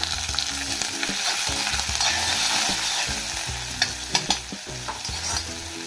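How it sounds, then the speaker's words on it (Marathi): Peanuts fry in a pan under a loud, continuous close sizzle, while a spoon stirs and scrapes them with a run of sharper clacks toward the end. "आता शेंगदाणे व्यवस्थितरित्या हलवून घ्यायचे आहे।"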